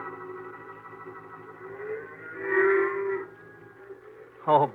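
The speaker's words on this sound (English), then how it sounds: "This ain't a fit night out even for cows. Look at them moving around out there and making funny noises." Cattle on a Wyoming range at nightfall before a storm give low, drawn-out moos, with a swelling call in the middle and a short, sharp bellow at the end.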